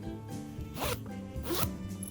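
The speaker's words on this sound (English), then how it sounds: "Zip seems very smooth." A YKK zipper on the fly of grey balloon-cut denim pants being zipped, a close, smooth ratcheting run with two quick strokes, each followed by a brief pause.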